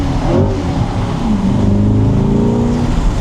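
A Chevrolet C8 Corvette in Z mode revs hard and accelerates with the top down on a backroad, a loud, close engine roar rising and shifting in pitch throughout, with no talk.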